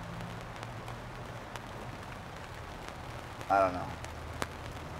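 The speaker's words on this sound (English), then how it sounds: "now I gotta deal with this rain." Rain falls steadily in a soft, even patter, with a man briefly murmuring a few words partway through.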